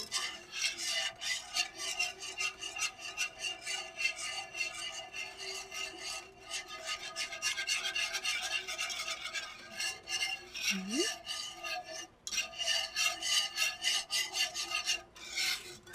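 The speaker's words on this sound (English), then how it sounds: "Now again, you're going to whisk. Scrape down all those sides of your pan." Whisk scraping and rubbing against the sides of a pan while a mixture is stirred, a continuous close rasping with rhythmic strokes and brief pauses, no talking.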